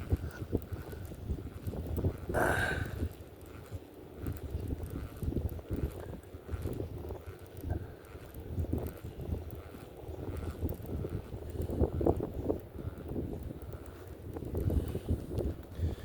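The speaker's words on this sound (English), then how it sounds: "There's the wind again." Wind blows hard outdoors at a fishing spot, rumbling and buffeting the microphone in uneven gusts that last throughout, loud and close.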